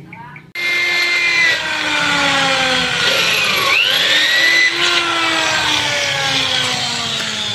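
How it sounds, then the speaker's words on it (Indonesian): A power drill with a 4 mm bit starts abruptly and whines steadily, close and loud, its pitch dipping and rising as the bit bites into a metal bicycle frame to fit a rivet nut. "ini kita bor pakai ukuran mata bor 4 mili dulu"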